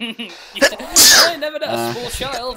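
One sharp, loud sneeze from a person bursts out in the middle of casual conversation, with voices talking before and after it.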